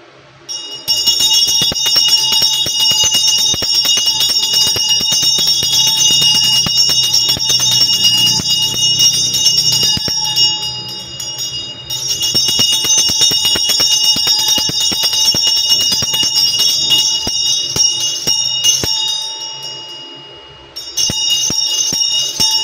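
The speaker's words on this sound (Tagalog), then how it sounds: "So nahihina yung bell sa'yo, no?" A ringing bell struck during a spiritual energy reading sustains a steady, bright metallic tone, fading briefly around the middle and near the end before sounding again, with no talk over it.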